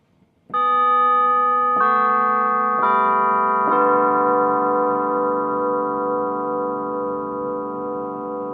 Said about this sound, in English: a grandfather clock, and it actually sounds so realistic it almost does not even sound synthesized